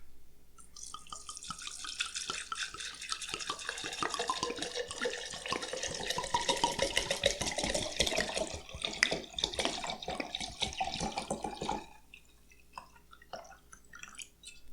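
Cheap 40% alcohol bought in bulk pours steadily into a jar for homemade vanilla extract, a close, continuous gurgling splash lasting about twelve seconds before tapering into a few faint drips and clinks.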